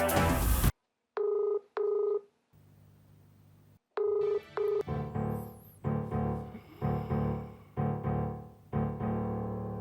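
A telephone number is keyed in, with a handful of sharp beeping tones separated by pauses, then a burst of rapid tones and repeated electronic ringing pulses, loud and close with no voices.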